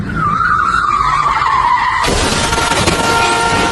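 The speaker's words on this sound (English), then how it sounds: "A speeding car loses control and swerves off course." A speeding car's tires squeal in one long, loud skid as it loses control, then a harsh, noisy crash-like rush cuts in halfway and continues to the end.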